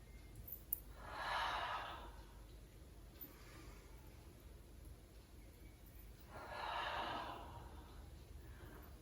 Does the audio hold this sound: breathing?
yes